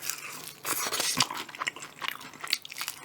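Crunchy bites and tearing of crispy whole fried chicken up close, with crackling crunches scattered over a few seconds.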